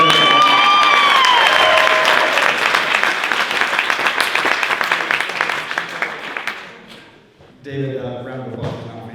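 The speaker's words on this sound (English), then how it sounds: "Let us all give a wonderful round of applause to Ginny for planning such a wonderful evening." A dinner crowd at an evening celebration gives a long, loud round of applause with cheers and whistles, thinning out over several seconds before a voice and scattered laughter take over.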